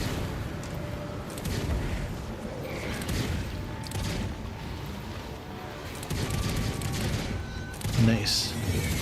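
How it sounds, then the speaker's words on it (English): Gunfire from shooting an enemy in Guild Wars 2 comes as repeated bursts of shots and booms over game music and effects, with a heavier impact near the end. "Alright, time to shoot him."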